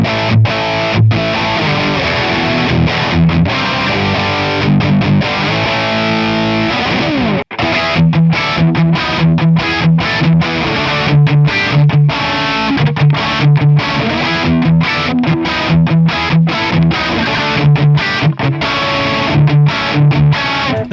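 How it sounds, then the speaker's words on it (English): Distorted electric guitar played through a free amp simulator with reverb and distortion, loud and continuous riffing with sustained chords and a brief break near the middle, no talking. "Let's see what you can do with the reverb."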